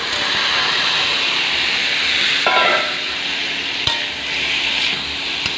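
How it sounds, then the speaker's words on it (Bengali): Chili powder, turmeric and salt frying in a pan as a spice masala, a steady hissing sizzle with a couple of sharp stirring scrapes and clatters partway through. "ভালো করে মশলাটা কষিয়ে নিই"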